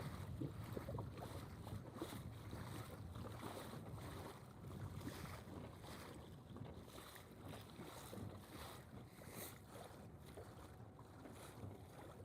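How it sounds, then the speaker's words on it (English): Steady wind gusting across open water near rocks while paddling a small boat, a continuous loud rushing and buffeting of the microphone with faint lapping waves underneath. "the wind is picking up"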